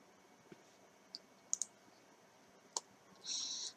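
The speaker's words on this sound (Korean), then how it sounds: "네, 클릭." A computer mouse clicking in a quiet room, a handful of faint sharp clicks spaced irregularly, ending in a short brighter rattle.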